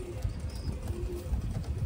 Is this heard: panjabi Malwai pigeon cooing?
yes